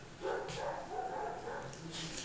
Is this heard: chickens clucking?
no